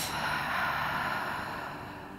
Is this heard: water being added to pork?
no